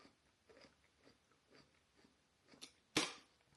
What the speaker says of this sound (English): Okay, let's see how crunchy it is.